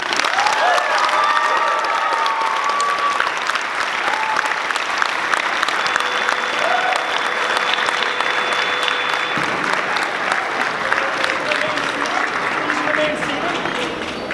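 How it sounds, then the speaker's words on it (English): An audience at a cerebral palsy awareness presentation gives sustained, even applause for the presenter, with faint voices and a few brief tones over the clapping. "Can I get one last round of applause for Hussein Al-Husseini?"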